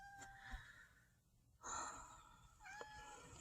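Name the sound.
cat meowing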